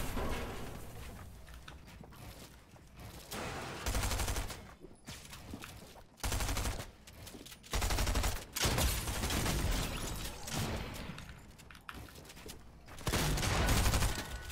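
Gunfire in a video game: irregular bursts of automatic shots and single cracks separated by short gaps, loud and close, with mechanical clicks between volleys.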